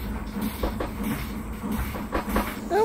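A steam locomotive in a train-driving video game pulls away with a regular chuff-chuff rhythm of soft bursts over a steady mechanical hiss and rumble, with no talking.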